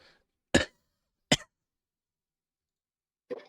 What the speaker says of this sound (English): Are my coughs loud?